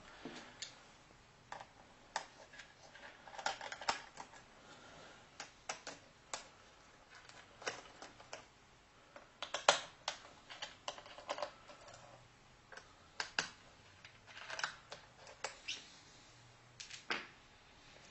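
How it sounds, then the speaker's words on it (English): Screws being removed from a laptop's keyboard frame, producing a steady run of small sharp ticks and clicks, close up and fairly faint, with no talk. "there are screws under here that connect the keyboard to the frame. So we'll take those screws out."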